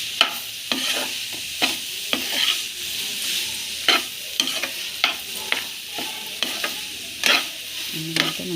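Spoon stirring cooked rice into a sizzling mint pudina mixture in a hot pan, repeated scraping strokes at an irregular rhythm over a steady background sizzle, close up with no talk.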